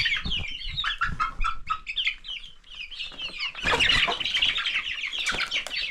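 A flock of chickens, small chicks and bigger birds, clucks and squawks busily close by, with overlapping calls and a burst of wing flapping toward the end.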